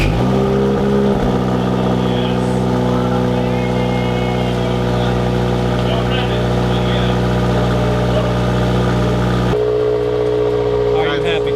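A Subaru FA engine with a Corsa exhaust idling after a cold start, a loud steady droning rumble throughout, close by, with people talking over it.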